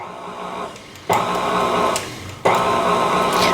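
Electric mixer pulsing on low speed through lemon cupcake batter, a loud whirring motor kicking in twice in short bursts close by.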